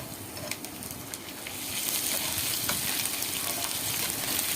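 Crushed ginger and garlic fry in a pan while being stirred, a close dense sizzle that swells louder midway, with scraping clicks from the stirring and no voices.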